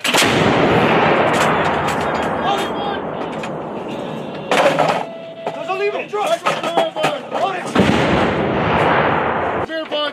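M198 howitzers fired by an artillery battery during a field exercise send out deep, booming blasts that roll on into a long rumbling decay, with voices talking between the shots.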